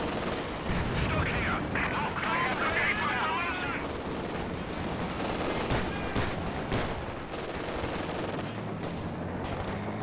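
Artillery smoke barrage shells thump and boom across a Company of Heroes 2 battlefield, dense overlapping blasts and crackling gunfire rolling continuously, with a commentator talking over the din.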